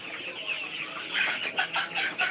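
Young chickens on a chicken farm, a mix of clucks and peeping calls that runs steadily, growing busier and louder in short bursts toward the end, fairly close by.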